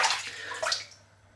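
Water splashes and swishes as razor blades are rinsed during a head shave, a brief close gurgling rinse that fades quickly, with no talk.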